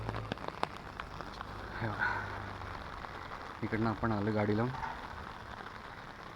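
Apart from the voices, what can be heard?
heavy rain at Sajjangad, Satara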